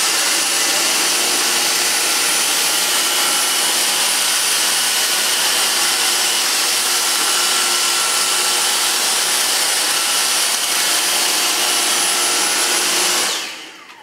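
Two Dyson cordless vacuum cleaners, a DC35 and a V6, run together on max mode, a loud steady high-pitched whine and airflow roar that holds constant for about thirteen seconds before cutting off near the end.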